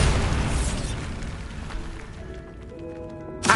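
A Bombarda blasting spell explodes in the game Hogwarts Legacy: a loud, broad blast hits at once and rumbles away over about three seconds, ending with a brief sharp knock.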